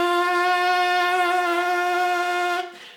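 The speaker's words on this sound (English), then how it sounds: "they're going to vibrate together and create a buzzing sound" A trumpet player's lips buzz with the mouth corners pulled back in a trumpet embouchure, giving a single steady, loud, reedy tone held for about two and a half seconds before it cuts off, with no talking.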